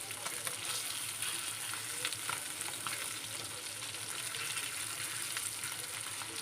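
Pieces of Malvani-style bangda, or mackerel, frying in a pan after being turned, a dense even crackling sizzle that holds steady throughout, close and without speech.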